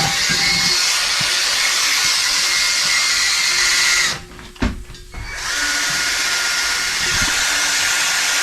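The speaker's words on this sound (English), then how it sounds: "I'm going to take a wire wheel and a drill" A power drill with a wire wheel cleaning old rubber off a tire rim whirs loudly and steadily with a grinding hiss, cutting out briefly near the middle before spinning back up and running on.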